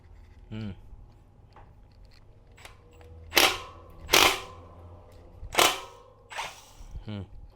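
An electric power tool loosening a bicycle freewheel fires several sharp, loud rattling bursts in quick succession, with someone speaking briefly before and after the impacts.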